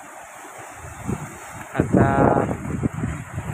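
Strong wind by the sea in Bicol during bad weather, blowing through trees on a mountainside, a continuous rushing roar that swells into a louder gust midway, with a voice speaking briefly.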